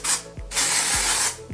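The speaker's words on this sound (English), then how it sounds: "And I just spray it right on my roots" Tinted dry-shampoo-style hair spray hisses from an aerosol nozzle onto hair roots in two long, loud bursts, each ending with a click of the nozzle mechanism, close up and with no talking.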